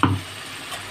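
Ground ginger, cumin and green chili paste sizzles in hot oil in a pan, a brief loud hiss and crackle at first that settles into a steady low fizz, with no talking.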